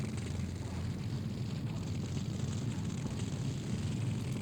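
Explosions in a Dominions 6 battle form a dense, continuous low rumble that stays loud and steady throughout, with no clear gaps between blasts.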